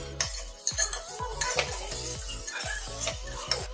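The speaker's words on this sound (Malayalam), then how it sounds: "ഇതെല്ലാം പച്ചമണം മാറുന്ന വരെ ഒന്ന് ഇളക്കി" Tomato, ginger, garlic and green chilli stirred in a pan for kudukachi biryani: a quick rhythm of spoon scrapes and taps against the pan over a constant sizzle.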